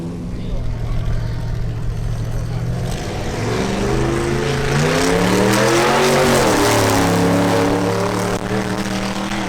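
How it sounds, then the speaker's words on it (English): A prototype drag racing car with a Ford Mustang engine idles, then its loud, close engine revs and climbs in pitch while a commentator talks over it. "Next up is Bernardo Garcia in his prototype with a Ford Mustang engine"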